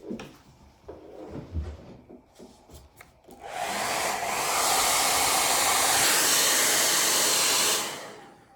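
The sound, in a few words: hair dryer drying a watercolor painting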